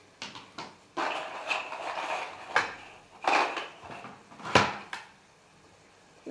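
Dry paccheri pasta tumbles into a metal cooking pot in a series of clattering, rattling bursts with a few sharper knocks of the pot, close up and without talk.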